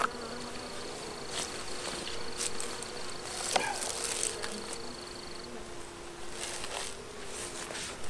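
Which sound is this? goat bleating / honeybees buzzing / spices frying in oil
honeybees buzzing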